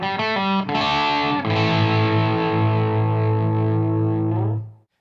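Distorted electric guitar played through an ENGL Special Edition E670 tube amplifier, likely boosted by a tube driver with EQ: a few quick muted chugs, then a sustained heavy chord ringing loud and alone before cutting off.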